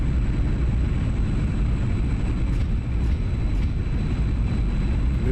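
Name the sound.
MiG-21 jet climbing after takeoff in video game DCS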